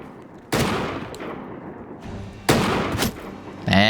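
Gunfire from bandits in Mount & Blade with the Empires of Europe 1700 mod, loud musket shots landing in separate bursts about two seconds apart, each followed by a decaying crackle and smoky rumble.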